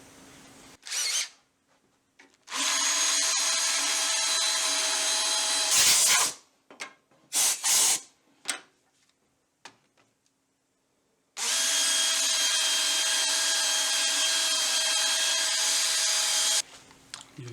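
A power drill fitted with a sanding disc works over an apple wood live edge bowl, running in two long steady whirring bursts separated by short taps and a pause, loud and close with no talk.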